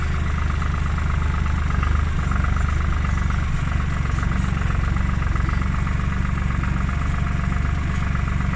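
A Tümosan tractor pulling a cultivator runs loud and close, its diesel engine holding a steady low rumble with no clear gear change heard.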